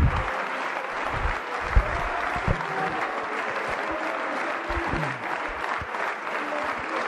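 Members of the French National Assembly applaud and rise from their seats, a sustained, dense roar of clapping filling the chamber, with scattered low thumps and knocks as people stand, continuous for several seconds.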